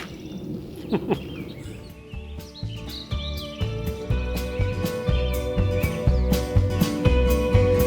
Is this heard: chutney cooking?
no